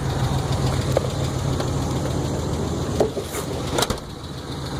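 A 1981 Buick Electra Limited engine idling steadily after a carburetor change, a continuous mid-pitched rumble with a faint valvetrain tick and a few soft knocks, no talk.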